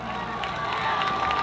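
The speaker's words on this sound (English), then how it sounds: "Listen to this crowd." A crowd at a high school football game between East Allegheny and Highlands makes a steady, broad roar of cheering from the stands, heard at a distance with no clear break.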